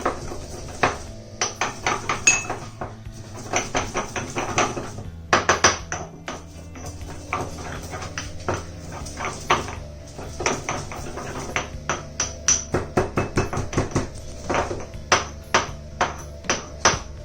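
Green chilies pounded by hand into a coarse paste, a run of sharp, ringing metallic strikes in uneven bursts, close and clear with no talk.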